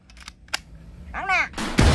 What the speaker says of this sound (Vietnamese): Bây giờ chị bắn thử coi nha.